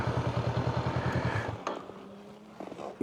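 A motorcycle idles with a quick, even chugging close by, then its engine is switched off and cuts out, leaving a faint click and quiet hum.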